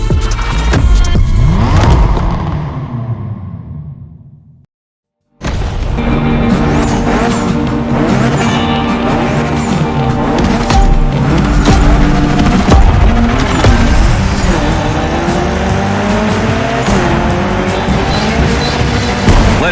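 A Mitsubishi Lancer Evolution IX tears through a gymkhana course in The Crew Motorfest, its engine revving hard with squealing, skidding tires. The roar is loud and continuous apart from a brief silent break early on.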